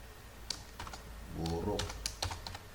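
Quick, close keystrokes on a computer keyboard while Python code is typed, sounding in short irregular bursts under someone speaking Indonesian.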